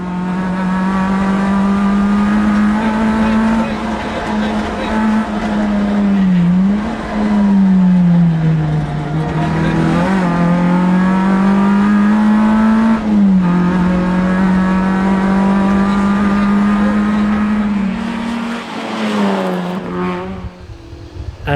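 A little Peugeot rally car is driven hard on the Tour of Mull, its engine droning loud and close for a long stretch, pitch rising and dipping through gear changes and corners.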